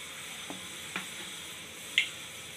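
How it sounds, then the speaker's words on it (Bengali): Mustard oil heating in a pan gives a faint, steady sizzle, with a few soft clicks and a brief sharper tick near the end. "তেল দিয়ে দিয়েছি, তেলটা ভালো করে তাতিয়ে দিয়েছি।"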